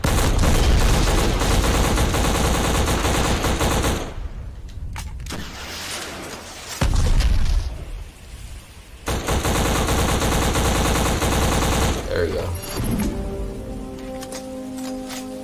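Gunfire rattles in the video game BLACK as sustained loud automatic bursts, rapid and dense, pausing briefly a few times before resuming, with other game sounds mixed in and no talking.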